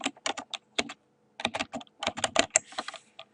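Rapid bursts of keystrokes on a computer keyboard, crisp clicks in quick runs with a short pause in between, close and fairly quiet, with no voice.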